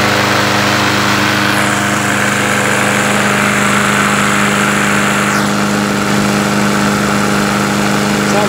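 Briggs & Stratton lawn mower engine with a freshly cleaned plastic carburetor, running loud and close in a continuous steady drone with a brief pitch sweep as the throttle shifts.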